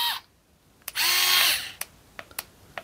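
A Bosch Go cordless screwdriver motor whirs in one short, close burst of about half a second. Faint clicks from handling the tool come before and after it in a quiet room.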